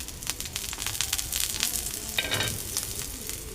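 Rice flour ghavan batter cooks in an oiled pan, giving a steady, close sizzling hiss with a brief brighter crackle partway through.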